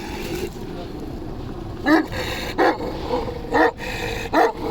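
A dog gives four short growling barks at roughly even intervals, close by, over a low background rumble.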